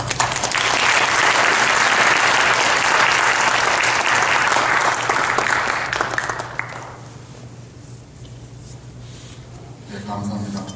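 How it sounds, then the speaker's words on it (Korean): A church congregation applauds to welcome an elder to the front, a dense, loud burst of clapping that holds for several seconds, then thins and fades, leaving room hush and a voice starting to speak at the end. "김기모 장로님 나오실 때 우리 박수로 환영하도록 하겠습니다"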